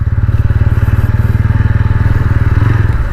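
A 2025 TVS Ronin 225 motorcycle engine runs close up, a loud, fast, evenly pulsing thump of exhaust beats that holds steady across the few seconds.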